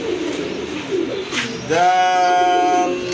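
A pair of Super Mili pigeons coos close by, with one loud, rolling coo in the second half after quieter murmuring.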